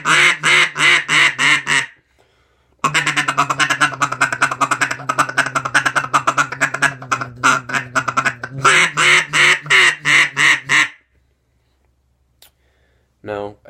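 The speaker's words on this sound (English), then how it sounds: "So what the feeder call sounds like is this." Feeder call blown on a duck call: rapid rolling bursts of raspy duck-like chatter, loud and close, with a pause mid-sequence, then trailing into a run of quacks before silence.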